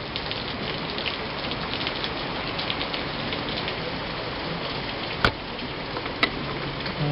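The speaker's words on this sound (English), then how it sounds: "the rains came in earnest" Steady rain falls in earnest outdoors at a cooking spot where peppers were being smoked, a constant close patter with a couple of sharp drip ticks near the end.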